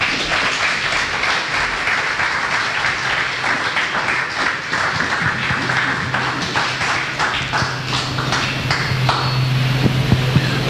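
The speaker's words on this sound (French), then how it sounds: "Si nous pouvons applaudir." A church congregation at a seminar closing applauds after a blessing, a sustained wash of many hands clapping at close range, with faint tones and a low hum rising beneath toward the end.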